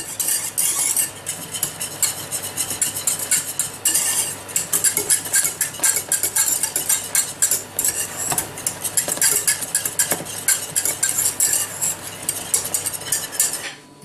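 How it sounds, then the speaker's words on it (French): A spoon or whisk stirs a mixture in a pot as it comes to the boil for a frangipane galette des rois, with steady close scraping and clinking against the metal, continuous and busy with no talking. "Il ne faut pas arrêter de mélanger"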